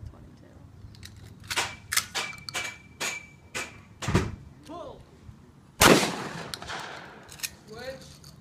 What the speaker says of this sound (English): Shooting a gun